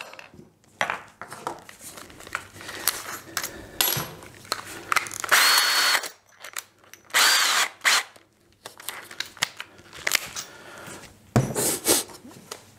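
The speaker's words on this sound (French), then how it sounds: "C'est faire le trou à 16 pour ça." Power drill boring a 16 mm hole in melamine for a coffee table, close intermittent bursts of whirring and grinding separated by quiet pauses and small clatters, with no talking.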